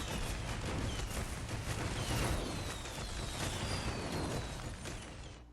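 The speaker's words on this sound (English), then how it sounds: "Celebrate the apocalypse with this fireworks launching weapon that explodes on impact." Fireworks launcher weapon in the Sunset Overdrive video game, rapid loud crackling bursts and pops running continuously like a fusillade, dense and unbroken throughout.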